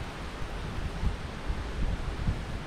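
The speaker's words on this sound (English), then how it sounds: "It is very windy." Strong wind at the Wemyss Bay railway station on a rainy day, a close, steady rush with low buffeting gusts against the microphone and no voices.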